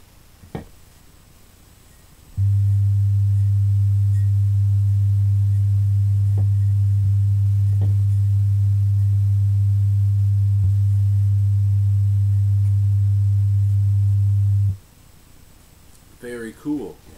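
A wet finger rubbing the rim of a larger wine glass yields a deep, steady resonant tone that swells in, holds loud and unbroken for about twelve seconds, then stops, with quiet room sounds before and after.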